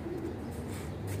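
Several pigeons coo softly, a faint, low murmur running under quiet background hiss with no talking.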